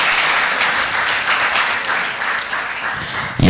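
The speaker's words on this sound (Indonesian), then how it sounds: "Tepuk tangannya buat kakak kita ya" Steady, loud applause from an audience at a Tegal city Scout Day (Hari Pramuka) thanksgiving ceremony, dense clapping continuing throughout before a brief louder burst at the end.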